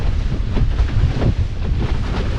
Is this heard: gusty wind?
yes